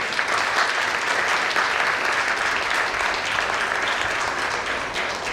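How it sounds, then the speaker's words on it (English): An audience at a book discussion breaking into applause, with loud, dense, sustained clapping throughout and no talk over it. "And you do deserve a big round of applause for that"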